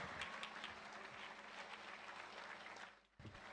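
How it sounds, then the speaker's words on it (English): Faint, steady applause from a student audience at a Nagpur sports-for-change national competition, honouring an excellence team; dense and continuous, it dips briefly near the end before picking up again. "Students, I want you to give a good round of applause for this excellence team that we have."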